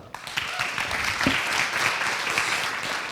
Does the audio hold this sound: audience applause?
yes